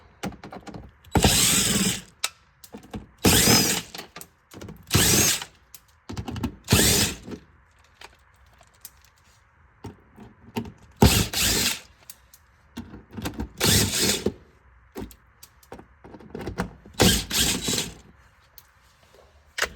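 Power tool spinning out bolts on a 2011-19 Ford Explorer 3.5 engine during a water pump and timing job, in repeated loud close bursts of whirring and ratcheting separated by quiet gaps.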